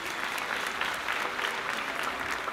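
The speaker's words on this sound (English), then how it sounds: "Let's give her another round of applause, please." An audience at a school graduation ceremony applauds. The dense, even clapping of a large crowd is steady and sustained across the whole stretch, with no voice rising above it.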